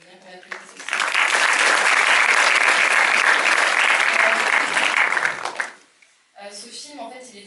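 A festival audience in a screening room bursts into loud, sustained applause for a film crew member, holding steady for several seconds before fading, with speech before and after it.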